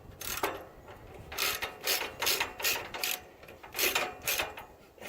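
A socket wrench ratchets in a run of quick clicking bursts while tightening bolts on a tractor third-function kit install on a Kubota L3301, close by with short pauses between strokes.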